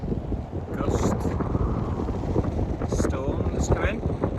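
Strong wind gusts buffet a Lagoon 440 catamaran riding at anchor in a 25-knot westerly gusting to 33, with a steady roar of wind across the microphone, rushing water and chop, and occasional rattles and creaks aboard.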